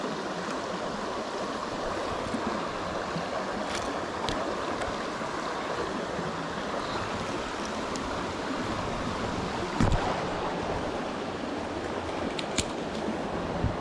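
Swift flowing river water, a constant broadband rush and gurgle that stays steady throughout, close by, with a couple of brief knocks near the end.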